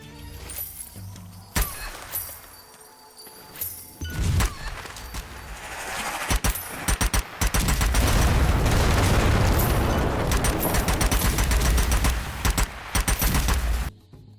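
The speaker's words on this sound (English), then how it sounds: "The guns are fun to shoot," Weapons fire and explosions in the shooter video game Strange Brigade, loud, dense volleys of gunshots and booming blasts, sparse at first and then building into sustained heavy fire.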